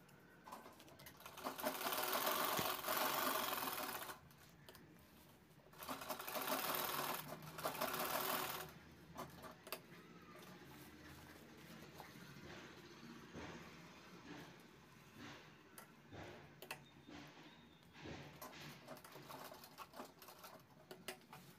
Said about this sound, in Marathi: हा कपडा आतल्या साईडने पलटवून अशा पद्धतीने त्याला चारी बाजूने शिवून घ्यायचा आहे पूर्ण.